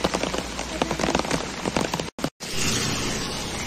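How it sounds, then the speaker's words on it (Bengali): Rain falls steadily by a Ganga ghat in Kolkata, a close, dense patter with a brief cutout near the middle before the hiss resumes. "এখনো বৃষ্টি হচ্ছে এবং আমি আস্তে আস্তে গঙ্গা ঘাট দিয়ে পাশ দিয়ে আস্তে হেঁটে যাচ্ছি"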